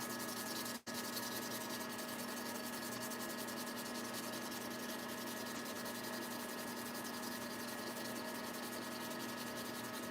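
Fine 400-grit sandpaper rubs steadily against a tobacco pipe, a continuous close hiss of sanding that runs without pause except for one brief break near the start, with no talking.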